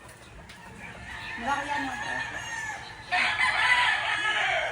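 Chickens clucking with a rooster crowing nearby, loud and continuous, while a person talks over the birds.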